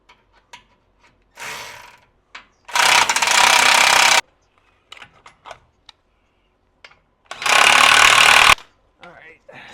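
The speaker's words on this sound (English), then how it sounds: "let's start by tightening these motor mount bolts down" A power tool or ratchet tightens motor mount bolts on an engine in two loud sustained runs of about a second and a half each, with scattered clicks, knocks and handling noises between them.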